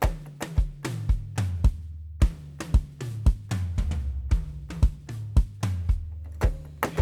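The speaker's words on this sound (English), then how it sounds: "So I'm using a jungle type of beat" A punchy jungle drum groove with deep tom-like hits and sharp accents in a steady, busy rhythm, loud and close, with no voices.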